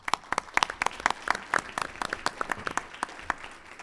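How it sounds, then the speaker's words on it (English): Scattered applause from a modest audience at a school board meeting, individual sharp claps clearly distinguishable in an uneven rhythm, moderately loud and close, with no talking over it. "I think they deserve a round of applause"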